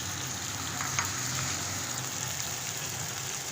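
Masala, potatoes and beans frying in a pan give a steady, close, continuous sizzle with a faint crackle, and no one speaks.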